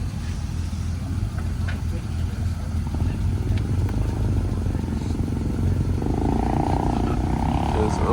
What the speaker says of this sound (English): Sounds like we had an early motorcycle departure.